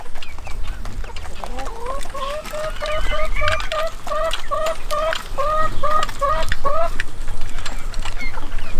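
Young chicks pecking at feed, giving a long run of rapid, high, evenly spaced peeps and soft clucks up close, over a low rustling background.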